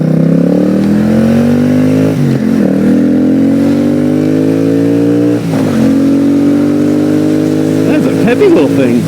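A carbureted 2002 Suzuki VS800 Intruder motorcycle under way, its engine droning loud and close, pitch climbing through gears with brief dips at shifts, wind rushing over it and a voice talking briefly.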